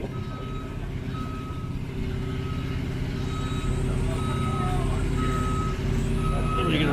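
A truck reverses with a rumbling diesel engine beneath a series of evenly spaced, high electronic reversing beeps that repeat clearly throughout, nearby and steady.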